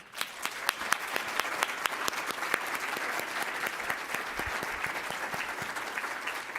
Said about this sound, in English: big old round of applause to today's speakers